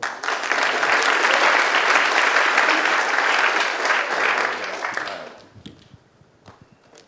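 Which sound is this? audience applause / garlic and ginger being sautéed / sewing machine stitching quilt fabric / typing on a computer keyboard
audience applause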